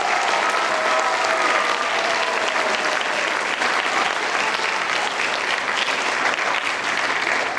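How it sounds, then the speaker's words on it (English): The audience at a 2019 winter band concert gives a sustained round of applause, thick and continuous from start to finish, with no voices standing out. "let's give them a round of applause for being here"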